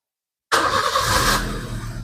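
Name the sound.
Maruti Suzuki Ritz car engine starting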